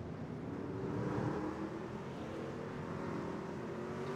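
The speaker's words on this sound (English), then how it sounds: "You see the trucks and hear the trucks shifting into gear." Racing trucks at a Red Light Racing Series championship event roll off together, a steady, loud engine drone with gear changes shifting the pitch, continuous mechanical rumble and no talk.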